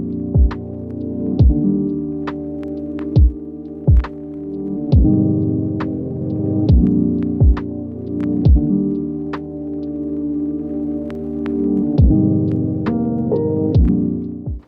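Machine polisher working compound across a Porsche GT3RS bonnet, a steady droning motor hum with rhythmic throbbing pulses and periodic sharp ticks as the pad moves, close and continuous.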